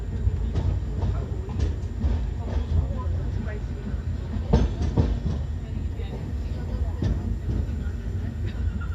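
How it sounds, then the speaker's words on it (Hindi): The Shalimar Express pulls out of Phagwara railway station with a continuous heavy rumble and rhythmic clatter of wheels on rails, close and loud throughout. "शालीमार एक्सप्रेस ने अपना डिपार्चर भी स्टार्ट कर दिया है"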